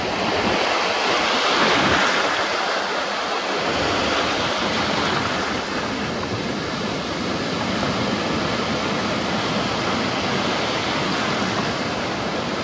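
Rough sea water with waves surging and washing in a loud, steady roar, mixed with gusting wind noise on the microphone, heard close and continuous with no voices.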